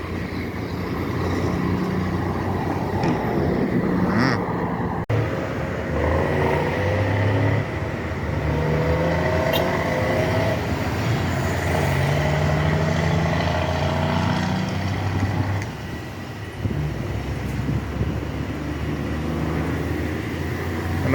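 Cummins N14 truck engine running on a highway, a steady loud low drone with gear and rev changes, heard from inside the cab for a long stretch.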